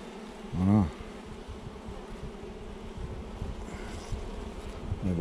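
Honey bees buzzing around an apiary with many beehives, a steady close hum of many insects, with one louder bee passing near early on.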